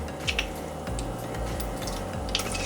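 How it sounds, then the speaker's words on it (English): Beef dropped into very hot oil in a wok, a sputtering wet sizzle with a few sharper pops and crackles over a low steady rumble of the burner, close and continuous, with no talking. "The oil is gonna get really hot very quickly. Put the meat in immediately."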